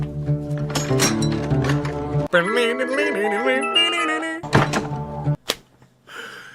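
A chiming, musical box-like jingle with tonal swells plays, broken by a few sharp thunks as the mystery box lid opens and later shuts in Call of Duty Zombies.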